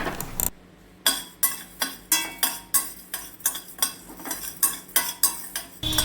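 Rhythmic scraping strokes of a spatula stirring dried chillies and fenugreek as they dry-roast in a hot pan, about a dozen regular passes, close and alone.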